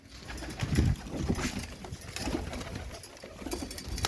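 Pigeons coo in soft, low, throaty bursts, repeating irregularly nearby over a faint background hum.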